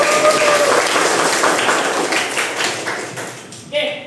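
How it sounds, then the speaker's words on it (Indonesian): A classroom of students applauds together in a dense, steady burst of clapping that tapers off, followed by a brief voice at the end. "Tepuk tangan buat kita semua."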